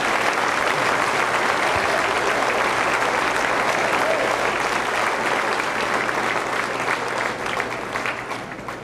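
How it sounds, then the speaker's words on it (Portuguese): Sustained, dense applause from a church congregation fills the room at full strength, steady throughout and easing slightly near the end. "Dá uma salva de palmas ao Senhor."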